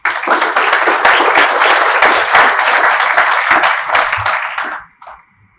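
Audience applause welcoming Denny Long to speak at an LIA meeting: steady, dense clapping from a room of people, loud and continuous for about five seconds before cutting off abruptly, with no talking over it.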